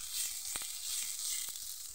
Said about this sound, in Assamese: পিঁয়াজ আৰু জলকীয়া দি এইখিনি মাছখিনি ভাজি ল'ম।